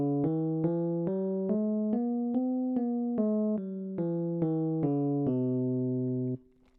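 A major scale is played on a pitched instrument as a steady run of separate notes climbing and then descending, evenly spaced and clear. The last note rings longest.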